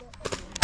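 A gas-powered 1911 airsoft pistol fires a single shot outdoors at an airsoft field, a short close pop preceded by a few faint clicks.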